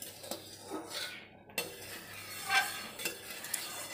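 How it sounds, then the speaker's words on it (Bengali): A spoon stirring a pot of noyal fruit and jaggery pickle as it cooks, with soft scraping strokes, metal clinks against the pot and a faint bubbling sizzle, quiet and close. "এই যে আমি এরকমভাবে নাড়াচাড়া করতে থাকবো, নালে তলায় লেগে যাবে"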